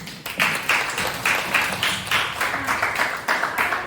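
A classroom of students gives a speaker a round of applause, a quick run of claps that flows into a rhythmic group clapping at a steady beat, loud and close, with no one speaking.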